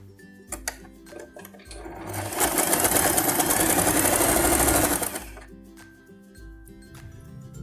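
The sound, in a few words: sewing machine stitching fabrics together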